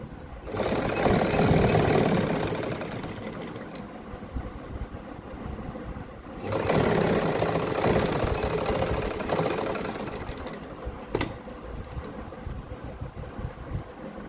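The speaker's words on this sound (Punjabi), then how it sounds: "ਇਹਦੇ ਉੱਪਰ ਆਪਾਂ ਸਿੱਧੀ ਸਲਾਈ ਲਾ ਦੇਣੀ ਹੈ" A sewing machine stitches a straight seam on a lined suit, running in two long bursts of steady mechanical whirring separated by a short pause, with lighter intermittent clatter toward the end.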